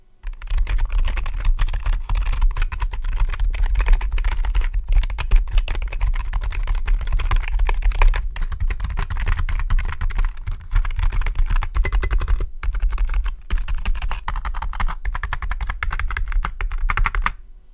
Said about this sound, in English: I might as well let you hear what this keyboard sounds like.